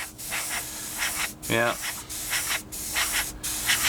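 An airbrush sprays paint onto a 1/48 scale Tamiya P-51D Mustang model in short, steady hissing bursts, with a brief spoken word near the middle.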